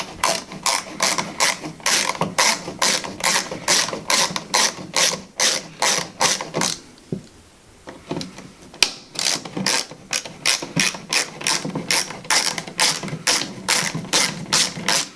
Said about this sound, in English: First thing I was going to do is remove the retaining screws for the actual switch.